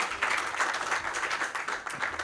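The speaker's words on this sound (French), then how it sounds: "Ces applaudissements s'adressent également" Steady applause from an audience at a political convention, a dense continuous patter of many hands clapping at even loudness throughout with no voices over it.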